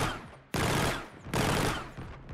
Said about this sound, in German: Wir schießen also einmal und es werden 5 Schüsse gleichzeitig ausgespuckt